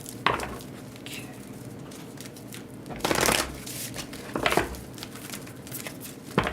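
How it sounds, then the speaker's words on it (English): A deck of tarot cards is shuffled up close in several quick riffling bursts with brief pauses between them, crisp and moderately loud with no talking. "One more of the shuffle here."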